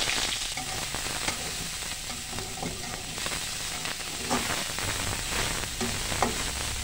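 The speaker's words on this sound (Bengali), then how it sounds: "এই যে অনেকটাই তেল রয়ে গেছে, দিয়ে দিলাম পেঁয়াজ রসুন কাঁচামরিচ" Onion, garlic and green chilli frying in a generous amount of oil left in the pan after frying pangas fish: a loud, steady close sizzle with faint stirring scrapes underneath throughout.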